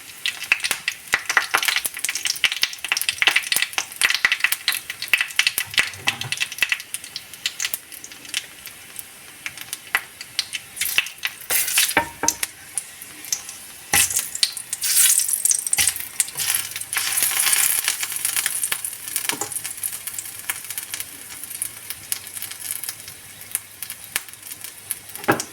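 Crushed garlic and two large cut dried red chillies fry in two tablespoons of oil in a frying pan, giving a steady, dense, loud crackle and sizzle that runs without a break.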